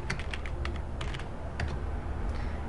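Fast typing on a computer keyboard while entering a layer name in Adobe Photoshop, a quick run of close, crisp key clicks in uneven bursts over a low background hum, with no talking.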